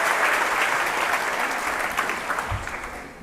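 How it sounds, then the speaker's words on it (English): A studio audience at a comedy talk show event bursts into loud, sustained applause, dense clapping that holds steady and tapers slightly toward the end. "Look at that applause!"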